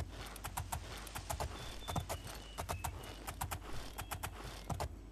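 Horse hooves clip-clop in the video game Oblivion, a quiet, uneven run of crisp hoof strikes in small clusters, fairly faint and alone without talk.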